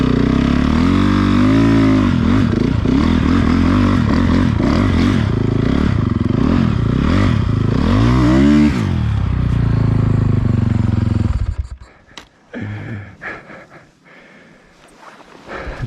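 A Timbersled Riot snowbike rides through deep snow with a loud, strained engine roar whose pitch rises and falls as it pushes through. The roar then cuts away to scattered clatter and quieter scraping.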